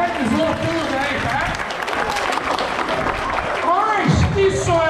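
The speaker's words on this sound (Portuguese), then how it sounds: "vai dar salva de palmas que essa galera que organizou tudo aí" Audience applause at an outdoor holiday event with skateboarding, clapping and crowd noise running throughout under loud voices and chatter nearby.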